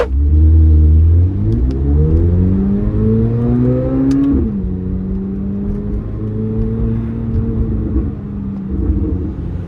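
A Chevrolet C8 Corvette Z06 fitted with Z07 springs drives on the road. Its engine first revs up strongly, then drops back to a steady, loud cruising drone with a low rumble underneath, close to the microphone.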